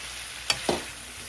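Carrots and cauliflower with spices stirred in a pan while making Punjabi-style sweet and sour pickle, two quick scraping swishes over a steady frying hiss.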